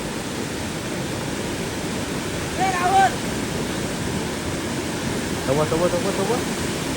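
A monsoon waterfall stream near Badlapur rushes with strong pressure in a loud, continuous broadband roar, while people's voices break through briefly over the water.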